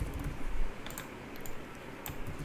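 Quiet computer keyboard typing while writing code, a sparse run of light clicks and taps close by over a faint room hiss.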